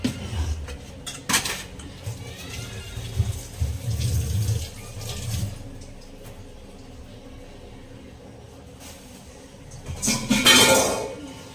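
Fish are washed in water in a home kitchen: splashing and running water mix with clinking dishes and utensils in a few bursts, louder near the start and again near the end, with quieter handling in between and no talking.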